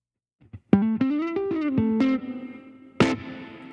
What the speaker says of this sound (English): I'll just do another UAD plugin, Galaxy Tape Echo